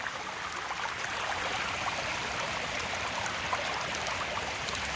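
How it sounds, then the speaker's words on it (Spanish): River water flowing down the intake canal of a trout farm, a steady broad rushing and gurgling that holds constant throughout at moderate distance, with no voices. "Este es el canal de captación por donde baja el agua del río"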